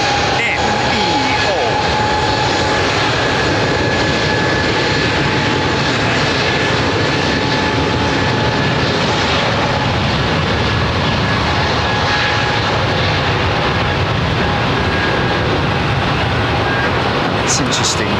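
Jet airliners at London Heathrow Airport drone with a loud, continuous roar and steady engine whine, heard close and unbroken throughout.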